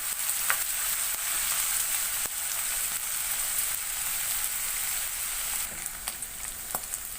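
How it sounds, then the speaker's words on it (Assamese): Ginger, garlic and green chilies sizzle in a pan for fish curry, a continuous crackling hiss with occasional small pops, close and with no talking. "আদা নহৰু কেঁচা গোন্ধ যোৱালৈকে অকণমান ভাজি ল'লে হ'ল"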